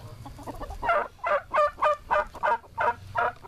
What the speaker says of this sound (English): I wonder if the turkeys remember me.